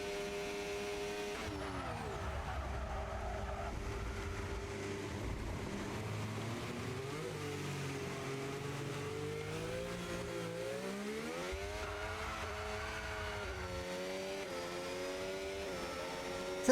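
Race cars at full throttle on a hot lap around a Belgian circuit, engines roaring continuously with rising and falling revs as the cars slide through corners, loud and steady with no talk.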